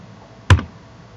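A single crisp key press on a computer keyboard, one short, close click standing alone against faint background hiss.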